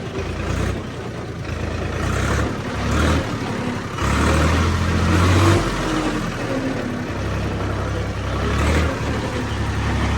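A Swaraj 855 tractor engine runs in first gear with its fuel pump revs raised, a loud continuous diesel rumble with rising and falling surges close by, no speech.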